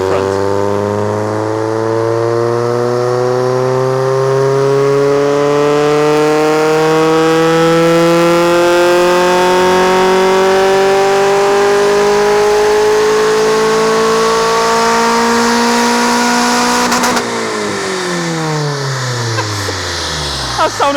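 Car engine revving hard on a dyno during an air conditioning power test, a loud sustained pull with pitch climbing steadily for about seventeen seconds, then dropping sharply as the throttle closes and the engine winds down.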